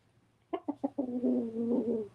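A single bird call, shaped like a rooster's crow, rings out fairly close and clear: three short clipped notes, then one long, wavering harmonic note lasting over a second, over a faint low background hum with no talking.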